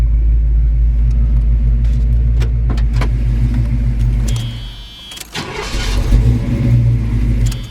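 A 1972 Chevrolet Malibu Convertible's V8 engine cranks and fires back up when warm, settling into a deep, steady rumbling idle with a brief stumble midway.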